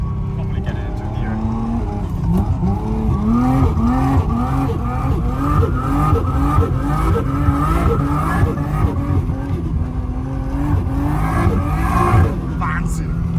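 A Nissan Skyline GT-R, R32 or R34, with its engine droning and rising as its wheels spin on snowy Finnish winter streets, heard close and steady while people talk.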